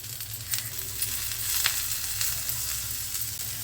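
Roselle with salt stirred in a hot pan for chutney, a dense, hissing sizzle over a low steady hum, with a few faint stirring scrapes, close and unbroken, no voices present.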